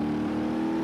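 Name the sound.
D-Series truck engine revving in BeamNG.drive video game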